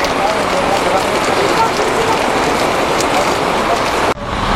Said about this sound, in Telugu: ఘోరంగా వర్షం పడుతుంది కాక